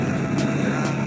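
Aircraft engine drones steadily during a flight, a loud, close, continuous roar with a constant low hum and no pauses.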